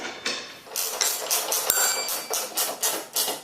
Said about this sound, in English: So let's go ahead and bolt the bottom section first